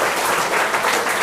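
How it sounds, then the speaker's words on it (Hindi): Brief burst of loud, dense applause from a school audience for a quiz contestant, close and steady. "अंजलि के लिए एक प्यारा सा कलम आता हुआ एक जोरदार ताली होनी चाहिए"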